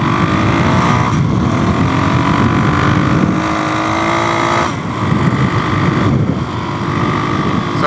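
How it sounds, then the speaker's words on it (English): Wide-ratio car gearbox whirring in third gear while driving, a steady mechanical whine under broadband road and wind rush, continuous and fairly loud with no talking. "what I will say about the wide ratio gears is they do have a little bit of a whir sound in third"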